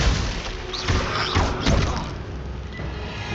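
Glacius ice spell being cast in Hogwarts Legacy, a dense burst of magical whooshes and thuds amid ongoing combat effects, loud and continuous with no clear speech.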